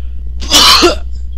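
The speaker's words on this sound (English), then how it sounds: "excuse me fans, I have to cough" One harsh, close cough bursts out in a short explosive rush, then quiet returns.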